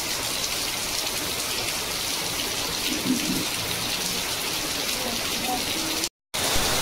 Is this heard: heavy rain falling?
yes